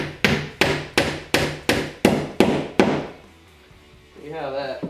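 A hammer drives a trim nail into wall trim with eight sharp, evenly spaced blows, loud and close, followed by a brief pause and then someone speaking.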